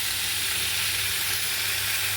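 Paneer pieces sizzle in a pan of hot oil, a dense, continuous close-up hiss filling the short stretch without pause or voices.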